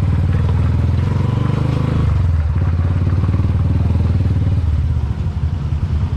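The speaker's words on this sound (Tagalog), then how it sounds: "2 makina yung gumagana." Loud, steady mechanical rumble of two rice mill machines running, with a rhythmic clattering drone, close by and continuous throughout.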